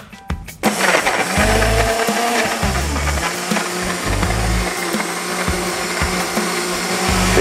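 A blender whirs loudly and steadily as it mixes garlic sauce for picanha, its motor briefly easing and surging as the blade churns, after a short clatter at the start.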